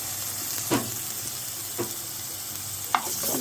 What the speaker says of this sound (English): I'm going to add some fresh garlic.